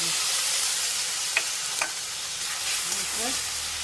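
Poppy seed paste and okra fry in a pan with a constant soft sizzle. A few light stirring scrapes and clicks break through the hiss.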